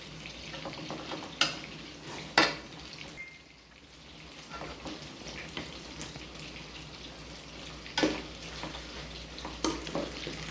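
Cooked basmati rice stirred and fried into chicken fried rice in a pan, a low steady sizzle with scraping and clinks of a spoon against the pan, several sharp knocks standing out.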